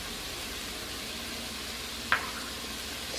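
Pork with Italian seasoning and fennel sizzles steadily in a hot pan, an even hiss throughout, with one brief clink near the end.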